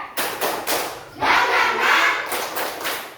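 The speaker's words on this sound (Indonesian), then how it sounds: "coba kita tepuk tangan, bisa nggak?" A classroom of students claps hands together, a brief uneven burst of applause swelling in the middle then tapering, loud and close.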